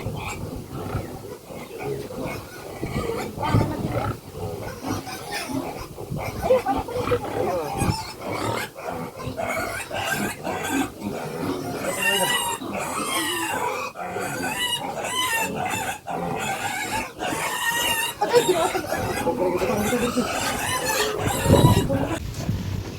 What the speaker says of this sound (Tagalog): grabe akong dalunggan mga baboy makasyagit wagas